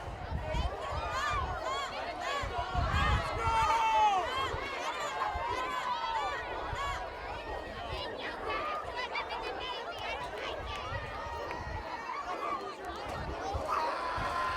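Crowd noise from spectators at a Durfee vs. Taunton high school football game, a steady distant murmur of chatter and cheering with a few brief calls rising out of the din throughout.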